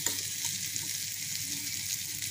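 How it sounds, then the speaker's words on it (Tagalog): Potatoes fry in a pan at breakfast time, giving a steady, soft sizzle and crackle throughout with no pauses. "Ito ay ipafry yung potato, tapos igigisa siya sa onion."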